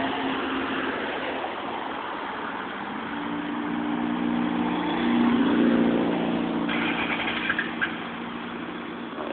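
An old car's worn motor runs rough and steady, a continuous engine drone with a swell in the middle and some faint clatter near the end, heard close with no talking.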